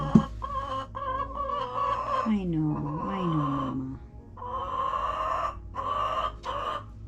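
Several chickens cluck and squawk agitatedly around a newly replaced nesting box in a coop, their calls rising and falling near the listener while someone speaks softly over them.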